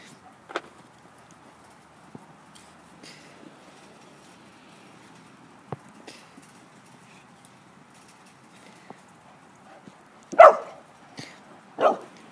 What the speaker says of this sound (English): You barking at the one on your bed, Sammy?